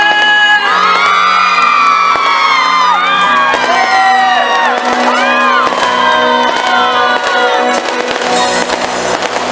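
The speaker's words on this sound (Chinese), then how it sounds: "给自己掌声尖叫声！" A crowd cheers and screams at an outdoor evening concert at a Zhongli temple festival for the Ghost Festival. Loud, continuous shouting mixes with singing and music, and fireworks pop and crackle over it.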